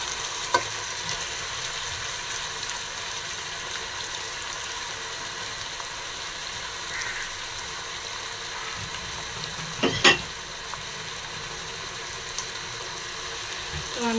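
Marinated chicken and potatoes fry in a pan for homemade chicken gravy, a steady, dense sizzle running throughout with a few brief scrapes and clinks near the middle, close and continuous with no talking.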